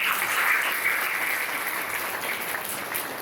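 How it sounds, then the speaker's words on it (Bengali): Audience applause at the Knowledge Carnival-24 event, a steady dense wash of clapping from a sizable crowd that holds fairly even and fades slightly over a few seconds, with no talking over it. "লাস্ট 1 মাসে একটা বই পড়েছো এটার জন্য তোমাদের জন্য একটা হাততালি শুনতে চাই"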